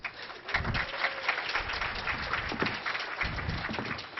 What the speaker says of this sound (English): Everyone applaud for Laz.